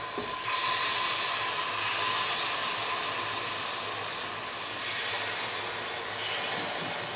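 Batter for Bengali chitoi pitha hitting a hot clay mould pan, a loud steady steaming hiss that swells after a short quiet start and holds throughout, close by with no talk.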